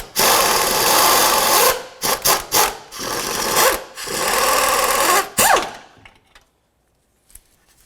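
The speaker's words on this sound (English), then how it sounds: "Now let's finish removing the bolt." Engine mount through bolt being removed on a 2004-2006 Scion xB, heard as close, loud bursts of whirring tool noise in several stops and starts before falling silent near the end.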